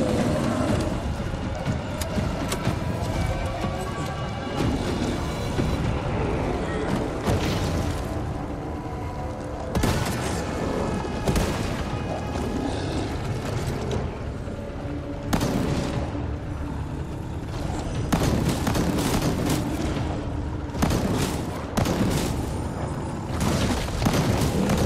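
Repeated loud gunshots and booming blasts in Resident Evil 4 Remake, fired in quick irregular bursts over dense game noise and music, with a voice talking at times.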